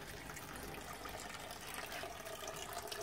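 Steady gushing of water through a 20-foot PVC pipe in an aquaponics setup in Nepal, a continuous close splashing flow with no talking.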